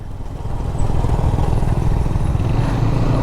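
Motorcycle engines roar steadily up close during a casual race among friends, a loud continuous rumbling drone with no pauses.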